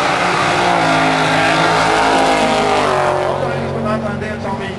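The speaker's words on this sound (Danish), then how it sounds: "I venstre bane er det Rasmus Jensen i en Chevrolet Camaro 628, men han bliver statist i det her løb" A Chevrolet Camaro and a Pontiac Trans Am drag race, loud engines roaring and revving up through rising pitch, then fading as the cars pull away, with a commentator talking over them.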